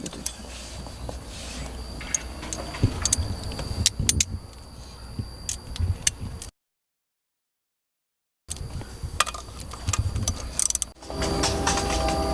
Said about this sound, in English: there's 4 10mm bolts right here as well that we'll be removing